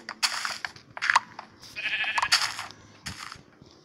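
Sheep in the Minecraft video game bleat several times in quick succession, with short, clear digital bleats alternating amid light game sounds.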